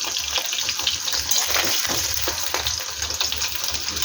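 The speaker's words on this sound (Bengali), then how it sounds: "তো এই গরম জলে স্টপ করতে দেবো পনিরটা।" Fried paneer pieces dropped into hot water give a steady, close hiss of bubbling and sizzling water that runs without a break, with no voices.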